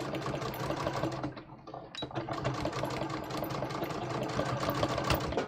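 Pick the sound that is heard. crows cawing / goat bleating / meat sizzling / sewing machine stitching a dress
sewing machine stitching a dress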